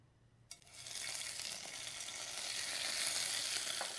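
Shrimp drop into hot oil over an open flame and burst into a loud, close sizzle. The frying holds steady and slowly swells, with no talking.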